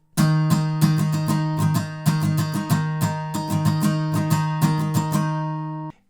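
Guitar strumming the intro of a song, with steady rhythmic down-up strokes on ringing chords, loud and close, running alone for about six seconds before stopping abruptly.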